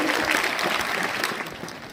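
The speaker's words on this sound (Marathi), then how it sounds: "सर्वांनी टाळ्या वाजवायचे" An audience claps continuously at a 2023 felicitation ceremony for successful 10th and 12th standard students. The applause is dense, loud and steady, then fades slightly toward the end.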